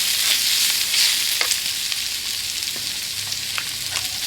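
Pork slices fry in a pan with a bright, continuous sizzle and scattered crackles and pops, close and steady.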